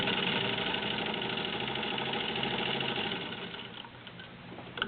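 A Singer 15-91 sewing machine runs in a steady, close mechanical whir with rapid rhythmic needle chatter, easing off toward the end with a small clunk, and no one speaks.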